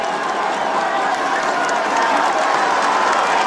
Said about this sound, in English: They're cheering him home.